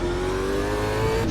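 A Super V8 race car engine revs hard and steadily in Automobilista 2 at the Adelaide circuit, its loud, close drone rising in pitch with a shift near the end.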